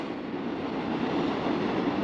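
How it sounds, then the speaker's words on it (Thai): A long train pulls into a station, a steady rumbling roar of the passing rail cars close by, continuous and fairly loud with no talk. "นี่พี่น้องมาแล้วขบวนรถไฟที่เฮารอพี่น้องคนก็สิมาจอดอยู่ศาลศาลานี่นะเนาะ"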